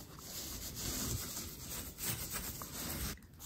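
A sponge works grout into a mosaic mirror frame in swirling strokes, a steady close scrubbing and rubbing sound with slight surges, continuous and alone.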